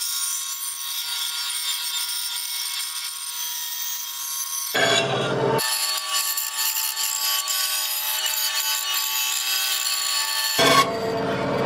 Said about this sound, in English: I will say this little delta bandsaw didn't enjoy doing that project.